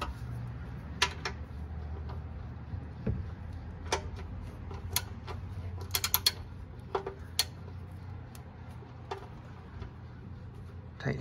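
A ratchet wrench tightens the oil drain plug on a 1997-2006 Jeep Wrangler TJ with a 4.0L engine, giving faint, irregular clicking ticks over a low background hum.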